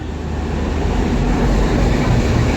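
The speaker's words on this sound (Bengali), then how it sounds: "11:40 যে ট্রেনটা ছাড়ে আপাতত সেটা ট্রেন করে যাচ্ছি আমরা" A Howrah–CSMT Mumbai Mail train runs at speed and is heard from inside a sleeper coach as a loud, steady rumble with a faint running rattle that holds constant throughout, with no voices.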